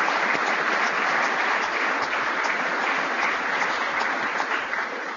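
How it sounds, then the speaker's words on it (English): Audience applause at a crime reduction summit, dense continuous clapping from a large crowd, loud and steady throughout with slight tapering at the end. "Let's give them a round of applause."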